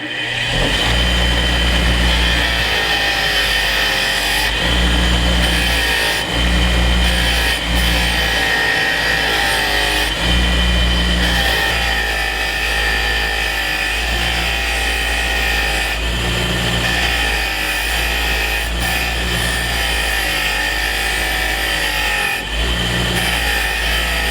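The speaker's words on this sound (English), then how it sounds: "I'm just going to do my best to clean them up here on the wire brush, on the bench grinder." A wire brush wheel on a bench grinder scrubs vintage scissors, a loud, continuous motor whine and abrasive rasp that surges and dips as the metal is pressed against the spinning brush, with no talk.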